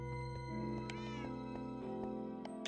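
A Minecraft cat meows several times in short, clear calls, fairly near and loud against a quiet background, with no talking.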